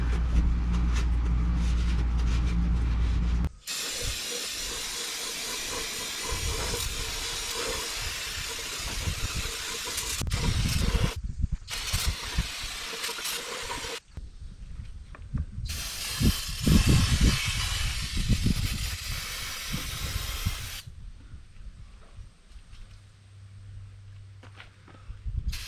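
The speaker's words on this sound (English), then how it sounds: "most likely brake cleaner." Brake cleaner sprays into the axle tubes of a 1966 Ford Mustang in bursts of loud close hissing, with pauses and a fainter steady hiss between.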